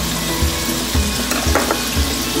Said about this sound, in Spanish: vamos a dejar que se dore poquito las costillitas para que agarre color